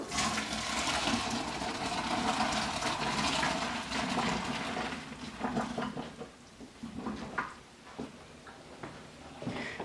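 Cooked pasta water pours out into a kitchen sink in a loud, rushing gush that tapers off into trickles and splashes.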